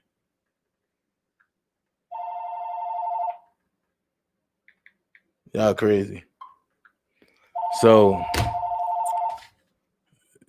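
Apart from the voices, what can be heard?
telephone ringing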